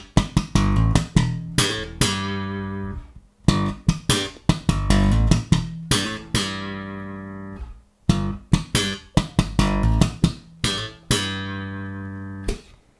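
Slap bass lick played as a riff, with two sharp pops and a vibrato shake on the held notes, repeating in phrases of punchy, percussive plucks that ring out briefly between short gaps, loud and close with no talking.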